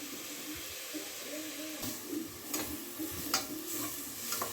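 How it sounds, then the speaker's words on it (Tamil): Onions, ginger garlic paste and tomatoes sautéing in oil, a steady soft sizzle with scraping stirs of a spoon against the pan recurring at intervals, close and fairly quiet. "தக்காளியும் போட்டு நல்லா வதக்கி எடுத்துக்க வேண்டியது தான்"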